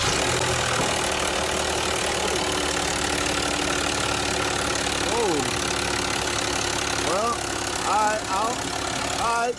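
A Dodge Durango V6 with no oil is started and left running in a garage, giving a loud, steady engine drone with a rough, knocking edge. People talk over it throughout.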